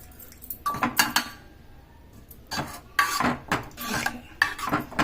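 A boiled mixture is stirred in a metal pot for Bathukamma festival food, with clustered clanks and scraping clinks of the utensil against the pot that come in bursts and pause briefly near the middle.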